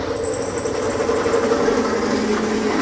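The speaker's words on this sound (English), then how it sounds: "He's gonna use the drill." A power drill runs continuously, giving a steady, loud, buzzing mechanical whine with a vibrating rattle and no voices.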